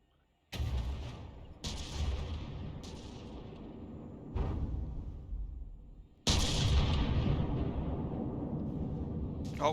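Warship detonating in From The Depths, a tank battle in desert terrain: a series of heavy booming blasts, four or five distinct loud detonations with long rumbling decays, the last and biggest roaring on to the end.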